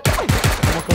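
Rapid bursts of gunfire crack in the video game PUBG Battlegrounds, five or six loud, close shots in a quick irregular rhythm with no talk over them.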